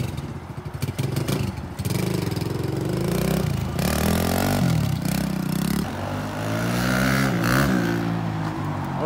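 A 2020 Kawasaki KLX 110L motorcycle engine revs hard as the clutch is popped, a loud close buzzing drone that rises and falls in pitch through several throttle swells.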